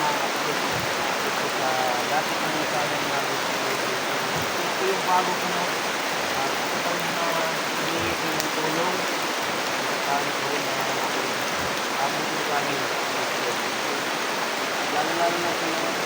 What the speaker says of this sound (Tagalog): Grabing ulan, pagkalakas tagad ng ulan.